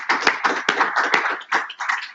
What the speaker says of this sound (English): please help me and join me in giving him a round of applause